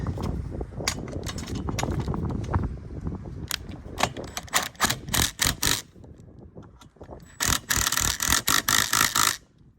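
A fastener being tightened on a roof rack extension for a 2021-23 Ford Bronco 4-door, heard as close, rapid ratcheting clicks in irregular bursts that turn sharper and denser near the end.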